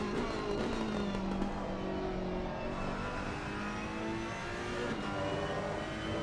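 Race car engine held at full throttle in a GT3 racing video game at Watkins Glen, a loud, steady high-pitched whine climbing through the gears with no pauses.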